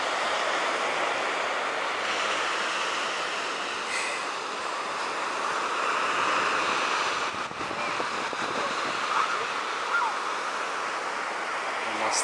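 Sea surf and wind roll steadily on a beach in Yevpatoria, a continuous broad wash of breaking waves that stays loud throughout with slight swells in intensity.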